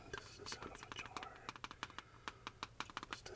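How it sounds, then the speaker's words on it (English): Light, rapid tapping on a glass jar, a quick irregular run of small bright clicks that grows more distinct and evenly spaced toward the end, close and fairly soft. "This is the sound of a jar."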